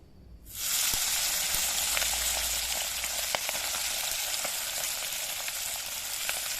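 Meat seasoned with salt and turmeric hits a hot pan outdoors over a wood fire, bursting into a loud, steady sizzle that keeps up without pause, with no talking.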